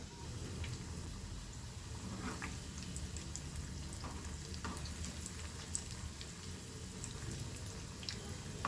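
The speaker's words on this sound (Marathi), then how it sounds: "या रोल्सना आपण गोल्डन ब्राऊन कलर येईपर्यंत छान फ्राय करून घेणार आहोत" Potato rolls deep-frying in oil until golden brown, giving a faint, steady, even bubbling hiss with occasional tiny pops throughout.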